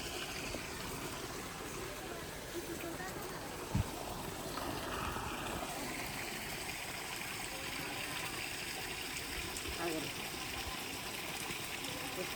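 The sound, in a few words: water flowing out from a spring at Chilakalagutta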